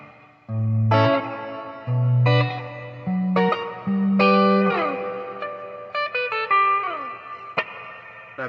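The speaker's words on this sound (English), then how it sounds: "Plate reverb on the RV6." Clean electric guitar plays a slow run of single notes and chords through the plate reverb setting of a Boss RV6 pedal, each ringing out into a smooth, shimmering reverb tail. No other sounds.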